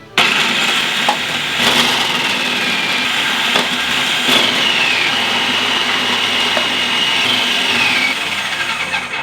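A food processor grates beetroot with a steady, loud whirring grind that runs without pause, with a few sharper knocks as the pieces hit the blade and no talking.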